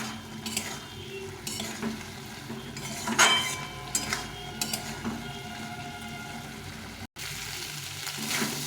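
Masala spices with onion sizzle and fry in a pan as a spatula stirs and scrapes through them, giving a steady crackling hiss broken by rhythmic scraping strokes, close up, with a brief cut near the end.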